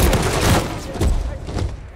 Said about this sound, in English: They spotted me taking fire.